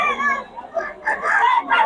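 Roosters crow close by, with drawn-out harmonic calls overlapping and following one another across the short span.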